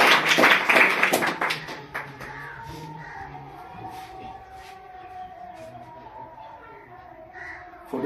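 An audience at a coaching centre's annual exam prize ceremony claps to welcome a prize winner: a dense burst of applause for about two seconds that fades, followed by quieter room noise and a distant siren-like tone.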